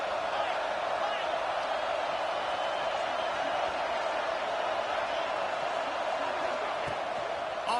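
Stadium crowd at a college football game, Tennessee hosting BYU, roaring and cheering in a steady, dense wash of noise that holds throughout without a break.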